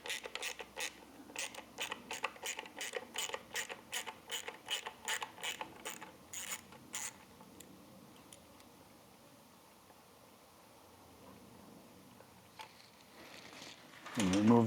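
A 5mm Allen key loosening the headlight bolts on a Triumph Thruxton RS, a rapid series of close ratcheting clicks that stops partway through, then quiet handling noises and a louder knock at the end.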